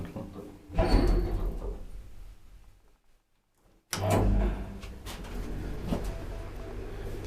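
An old Kone traction elevator's doors slide along their track, a rumbling close-range slide that stops with a thud, then a short silence before another loud sliding movement and continued mechanical rumble in the car.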